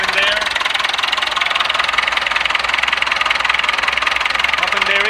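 A Massey Ferguson 165 tractor engine idles steadily after a fuel pump repair, a loud, close, even diesel chug with a fast regular beat throughout, with faint voices briefly at the edges.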